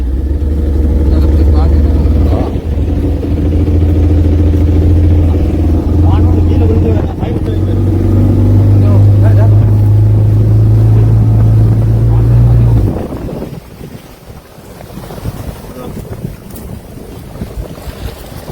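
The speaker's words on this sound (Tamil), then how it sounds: "படகு வலிக்கிட்டு" A motorboat engine drones steadily and loudly out on the water for most of the stretch, buffeted by wind noise on the microphone, then cuts away near the end, with voices talking over it.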